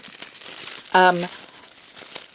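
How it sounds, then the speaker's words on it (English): A 1 3/8 inch circle punch presses through thin wrapping-type tissue paper in one short crisp crunch near the middle, with quiet handling rustles before and after. "I'm using the 1 3/8 circle punch, and when you're punching"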